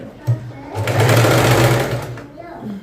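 A sewing machine runs a fast, steady stitch across a dress seam, a buzzing mechanical whir lasting about two seconds after a brief start-up thump, with a voice talking around it.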